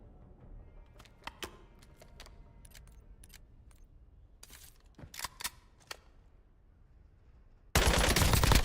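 Machine gun fire in the video game Warzone from a top-loaded small machine gun, scattered sharp bursts and single shots over a quiet background, ending in a sudden loud blast of noise.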